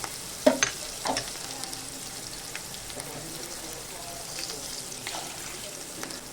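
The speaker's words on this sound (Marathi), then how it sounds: "ते छान असं परतून घ्यायचं आपल्याला" Cabbage and curry leaves sauté in a pan with a steady, moderately loud sizzle and occasional stirring clinks near the start.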